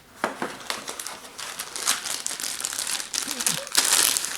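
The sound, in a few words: crinkling packaging while unboxing Braun beard trimmer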